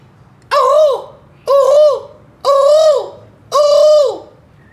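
Birds fed on a rooftop in the morning coo loudly and close by, four evenly spaced drawn-out calls.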